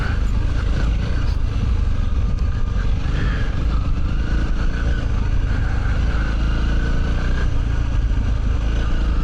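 An off-road motorcycle ridden along a trail on the Yorkshire Trans Euro Trail, its engine droning loud and steady throughout with uneven low rumble and road noise.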